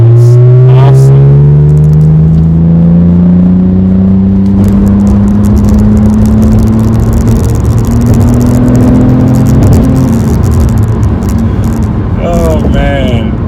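An Acura TL engine revs, rising in pitch as the car accelerates with a loud, close whirring drone and road rustle, while a voice is faintly present.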